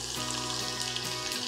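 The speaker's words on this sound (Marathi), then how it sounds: "आणि लसूण हलकासा परतून घेऊया।" Garlic, with mustard seeds and cumin, fries in plenty of hot oil, giving a loud continuous close-up sizzle with crackling throughout.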